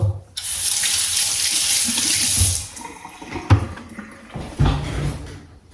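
Water runs loudly from a kitchen tap into a sink while food is washed before cooking, a steady hiss that then breaks into splashing and clattering as the stream is interrupted.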